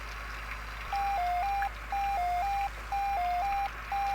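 Electronic kitchen beeps from a McDonald's-themed Nintendo DS game, a repeating two-tone chirp in four evenly spaced bursts about once a second, clean and synthetic, with no voices.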